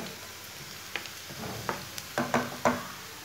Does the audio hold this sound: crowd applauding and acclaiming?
no